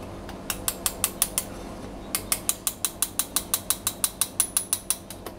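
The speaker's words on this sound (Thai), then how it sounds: "สุดท้ายค่ะแป้งค่ะเราร่อนแป้งกันนะคะ แป้งเค้กนะคะเราจะใช้แป้งเค้กในการร่อนนะคะ" A hand-cranked sifter sifts cake flour for pineapple cookies, giving a rapid series of sharp mechanical clicks in two runs separated by a brief pause, close and distinct.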